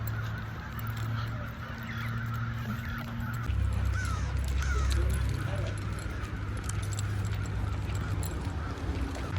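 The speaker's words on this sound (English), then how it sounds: "All them doggone birds." A flock of birds calls outdoors, honking and squawking in repeated bursts, over a low steady rumble and some movement noise nearby.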